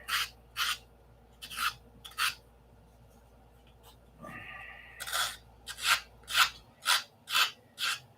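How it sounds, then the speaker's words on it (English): Sandpaper rubbing on a scale model aircraft, a series of short rasping strokes in an uneven rhythm, close and fairly quiet, with a brief pause and a faint tone in the middle. "Eyeball and sand."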